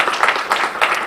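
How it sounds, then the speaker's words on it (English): Audience applause at a Congressional briefing on Sikhs in America at the US Capitol: a short, dense burst of many hands clapping together, fairly close and steady, with no voices rising above it. "How about a round of applause for both these people?"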